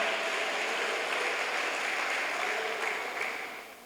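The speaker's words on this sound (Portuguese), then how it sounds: "Mais forte esse aplauso, mais forte esse brado de vitória." Church congregation applauding during a Baptist communion service, a steady broadband wash of clapping that holds loud throughout and fades slightly at the end, with no voice over it.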